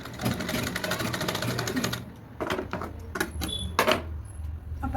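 A sewing machine stitching a katori cut blouse runs in a steady rapid clatter, stops briefly, then resumes in short separate bursts with a few light clicks, close and loud with no voices.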